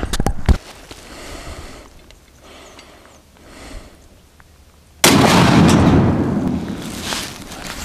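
A .308 rifle fires a 200gr ELD-X handloaded round at an outdoor load test. One sharp, loud, nearby report sounds early on, then a quiet stretch with faint handling, and finally a sudden loud burst of wind-like noise that lasts to the end.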